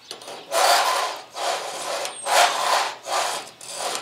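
Five rhythmic rasping strokes of a knife blade on a Lansky guided sharpener hone, each about half a second long, close and fairly loud, with brief gaps between passes.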